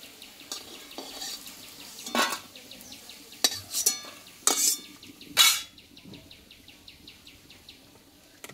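Fried vegetable fritters lifted from hot mustard oil in a kadai, with a few sharp metal clinks of a utensil against the pan over a low, steady background hiss.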